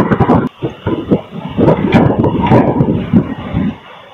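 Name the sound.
local train arriving at Lalbag Court Road station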